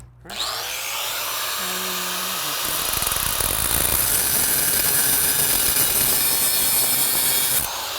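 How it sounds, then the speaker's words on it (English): A grinder cutting off excess material while building a Brazilian hardwood deck gives a loud, continuous, close whine with a harsh gritty rasp that holds steady for several seconds and then stops abruptly. "So I'm gonna grind off the part that I don't need."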